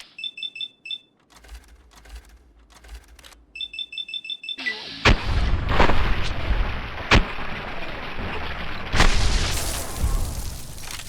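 Fallout New Vegas laser gun fire: quick electronic beeps give way to loud, sharp energy-weapon blasts about every two seconds over a dense, rumbling game soundscape.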